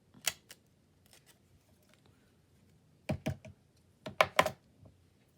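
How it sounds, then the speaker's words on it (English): Recycled paper is punched with a circle punch: a few sharp clicks and crunching snaps in bursts, close and fairly quiet, with a louder cluster of rapid clicks near the end and no talking. "let's just grab a piece of this recycled paper, and I'm going to punch a circle out"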